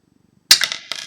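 A sharp plastic snap as the trigger mechanism of a LEGO Nexo Knights Aero-Striker fires its missiles, one loud crack followed by a second click shortly after, after a quiet moment.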